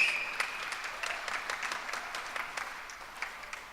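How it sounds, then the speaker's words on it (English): A church congregation applauds steadily, a modest crowd of claps spread evenly and slowly tapering off, heard from a little distance in a hall. "Let's give him a clap."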